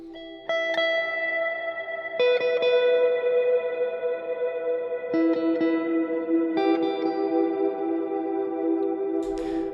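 Electric guitar chords ring out through two stacked reverb pedals, a Big Sky and an Immerse Mark II, each strum blooming into a lush, sustained wash that hangs and layers into a dense, shimmering tail, with four chord changes and no talking.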